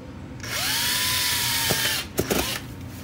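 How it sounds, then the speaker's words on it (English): A power drill whines up to speed and bores through cardboard for about a second and a half, close and steady, then stops with a few short clicks and clunks from the tool. "let's go ahead and drill holes right where those are"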